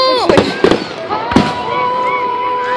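Fourth of July fireworks pop and crackle in several sharp bursts over a steady hissing whistle, loud and nearby, with people talking over them.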